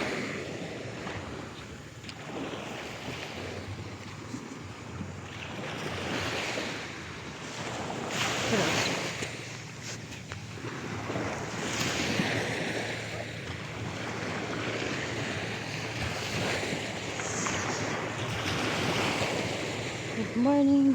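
Steady sea surf washing onto a shore in Quezon province in the morning, continuous rolling waves with wind buffeting the microphone and faint voices nearby.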